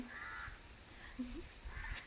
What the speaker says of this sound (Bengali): পাখির কলরবের প্রথম শোনা একটা সকালের পাখির ডাক, কাকা শব্দ।